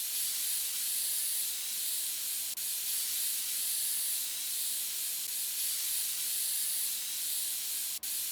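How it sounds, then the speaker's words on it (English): Compressed air blasts steadily in a PC Building Simulator game while a PC is cleaned, giving one continuous loud hiss with two tiny clicks along the way. "let's get some compressed air and let's clean this thing out"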